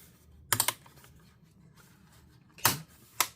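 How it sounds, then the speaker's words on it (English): Plastic palmrest clips snap into place on a Lenovo ThinkPad P16 Gen 1 laptop, a quick cluster of sharp clicks followed later by two more crisp, close snaps in a quiet room. "we're going to kind of repeat the same motion to click that back down"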